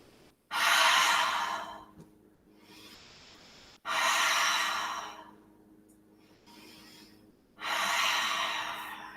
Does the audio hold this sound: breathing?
yes